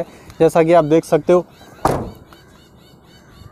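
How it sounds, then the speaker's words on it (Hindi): A Mahindra Scorpio S5 door is shut once, giving a single broad thud heard close by right after a man finishes a short remark, then a quiet tail. "अगर आप इस गाड़ी के जो है डोर को अगर आप लगाते हो तो यहाँ पे आप साउंड सुन सकते हो"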